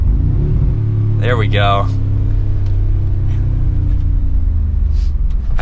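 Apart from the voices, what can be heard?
Mercedes-AMG G63 SUV engine accelerating on test drive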